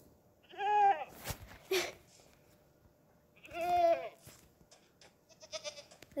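Minecraft mountain goats bleat in the video game, two drawn-out, wavering bleats a few seconds apart with softer clicks and short game noises between them, and no voices.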